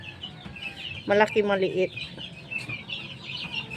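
Backyard farm hens cluck in a brief close burst of clucks, with rustling and someone speaking softly under the busy outdoor background.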